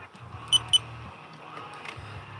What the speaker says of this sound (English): Hopefully this beep isn't really loud.